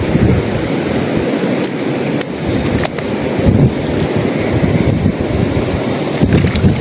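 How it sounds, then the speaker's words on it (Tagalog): Strong wind at the seashore, a loud, continuous roaring rush with gusty swells and scattered clicks of buffeting, no voices. "Mahangin."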